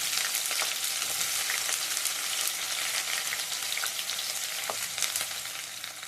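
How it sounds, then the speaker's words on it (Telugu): Cumin seeds fry in hot oil for a ridge gourd curry, a steady close crackling sizzle with scattered sharp pops throughout. "దానిలోకి ఇదిగోండి కొంచెం ఆయిల్ వేసుకొని జీలకర్ర వేసుకున్నా"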